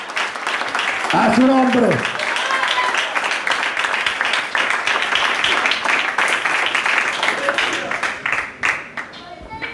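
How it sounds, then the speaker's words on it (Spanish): A church congregation claps hands steadily and fast in rhythm, the sustained clapping filling the space while a voice sings or speaks briefly over it near the start. "¿Cuántos se dan palmas, Señor, hermano?"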